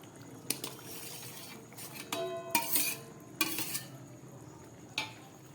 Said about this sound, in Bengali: এবার আমি এর মধ্যে এই কেটে রাখা টমেটো আর পেঁয়াজটা দিয়ে দিচ্ছি।